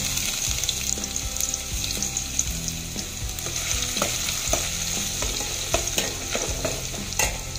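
Ginger fries in hot corn oil for chicken wing tinola, a dense continuous sizzle under frequent stirring scrapes and utensil taps against the pan, with no voices.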